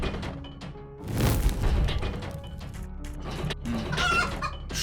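Chickens cluck and squawk in a dungeon crawler video game, several bursts of busy clucking in close succession, loud and fairly near, with game sound effects mixed in and no talking.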